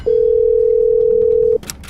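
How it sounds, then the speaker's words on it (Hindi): A home landline telephone rings late at night: one loud, steady electronic ring tone held for about a second and a half, then cutting off to a faint hiss with a brief bright click. "देर रात उनके घर का टेलीफोन बजा"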